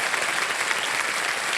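Studio audience applause on the TV quiz show Kaun Banega Crorepati: a short, steady burst of many hands clapping together, loud and even, with no speech over it.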